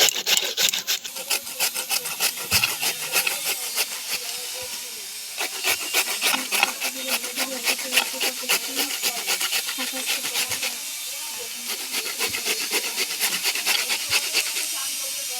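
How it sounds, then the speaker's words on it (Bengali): A bottle gourd rubbed against a grater in a home kitchen, a steady run of quick rasping strokes in a fast regular rhythm, close and clear, with a few brief pauses between spells of grating. "এবারে আমি লাউটাকে একটা গ্রেটারের সাহায্যে গ্রেট করে নেব।"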